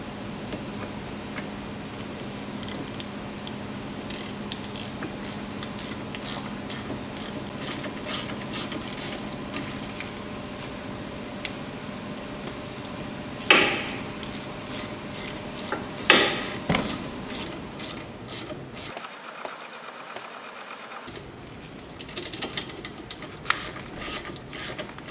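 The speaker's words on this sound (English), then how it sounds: "Gonna go clean these up on the wire wheel." Rusty front brake parts from a 2000-2007 Ford Focus are cleaned on a wire wheel, producing a steady whirring drone with rapid ticking and scraping, heard close and continuous, with sharper bursts when parts press against the wheel.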